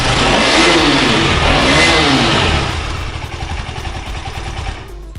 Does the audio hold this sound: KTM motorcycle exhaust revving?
yes